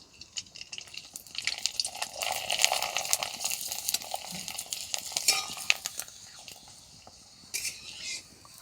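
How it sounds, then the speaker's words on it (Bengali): Rice flour papad dropped into oil that is not yet fully hot, giving a steady, close frying hiss with light crackles and occasional stirring clinks that ease off near the end. "একটা পাঁপড় দিয়ে দেব, আপনারা দেখতে পাবেন কতখানি ফুলবে।"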